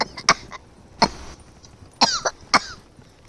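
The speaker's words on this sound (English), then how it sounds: "I just can't stop coughing." Four sharp, raspy coughs close by, coming in uneven bursts with short pauses between them.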